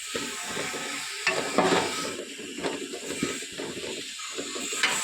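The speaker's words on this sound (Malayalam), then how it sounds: "നല്ലോണം ഇളക്കി കൊടുക്കണേ" A spoon works through a pickle mixture in a pan, scraping and clinking against the metal in irregular strokes over a steady, soft sizzle, close by and with no voices.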